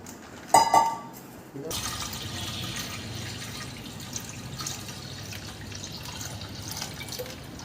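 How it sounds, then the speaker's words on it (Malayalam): Milk poured into a pressure cooker while making milk payasam: a brief splashing pour near the start, then a steady watery gurgle with faint drips running under a low background hum. "ഇനി നമുക്ക് പാല് ഒഴിക്കണം"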